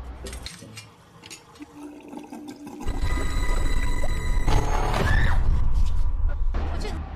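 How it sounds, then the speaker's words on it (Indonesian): Water gushes from a bathroom tap, starting suddenly and running steadily and loud, with a faint hum and tonal ringing in the background. "tiba-tiba Lee mendengar suara air keran yang terbuka dari kamar mandi"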